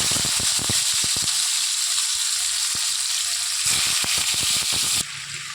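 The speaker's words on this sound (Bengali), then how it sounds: "কমিয়ে দিয়েই ভাজা হচ্ছে চিকেনটা" Chicken fries in a wok over a low gas flame with a steady close sizzle and bursts of popping crackles throughout.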